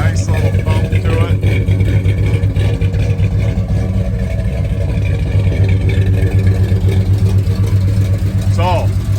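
A 1969 Chevrolet K10 truck with an added fuel-injected engine built in Arizona idles close by with a steady, loud mid-range rumble, a light rise in revs near the end.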